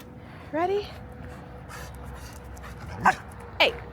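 A dog gives a few short, high yips and whimpers, spaced apart over a low background, with no talking.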